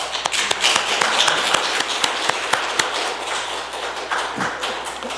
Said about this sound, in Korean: 격려의 박수를 하나님께 올려드리겠습니다